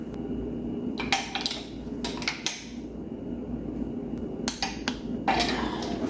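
Metallic clanks and ratcheting taps come from torquing flex plate bolts on a 360 Magnum long block for a 1973 Dart while a pry bar holds the crank, in short bursts over a steady background hum.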